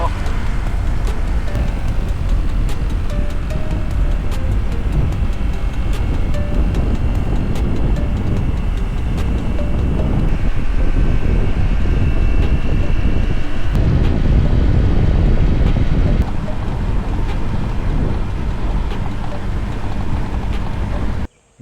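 A scooter rides along a road on the island of Bohol in the Philippines, giving a continuous loud rumble of engine and road noise heavily buffeted by wind against the microphone, steady for about twenty seconds before cutting off.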